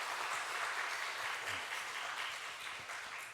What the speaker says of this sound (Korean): 우리 박수로 한번 격려합시다.